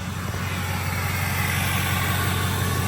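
A 6.0 Powerstroke diesel truck engine running with a loud exhaust, giving a steady, heavy, low rumble that stays close and constant without clear rev peaks.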